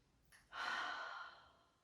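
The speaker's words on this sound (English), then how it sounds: "breathing out through the mouth." A single slow exhale through the mouth, close and soft, swelling quickly and then trailing off into quiet during a relaxed breathing exercise.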